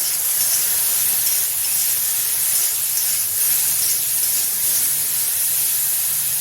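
Mushrooms fry in a pan while their water cooks off, giving a loud, continuous sizzling hiss that holds steady throughout with no talking.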